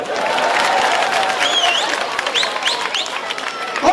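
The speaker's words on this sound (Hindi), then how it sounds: "ठोको ताली।" Audience applause and crowd noise at a Hindi political speech, a steady wash of clapping and murmur lasting the whole stretch with some cheering rising in the second half.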